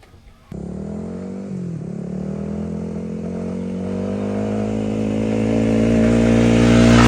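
A Yamaha XSR155 motorcycle engine starts up and idles, then revs steadily higher, loud and close, its pitch climbing over several seconds.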